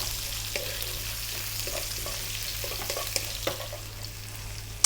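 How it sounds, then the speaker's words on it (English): A cup of sliced onions fries in oil with a steady, even sizzle, a low continuous crackle close by, with a few faint stirring knocks and no talking. "Then we're going to drop in 1 cup of sliced onions and we're going to let this go for 3 minutes."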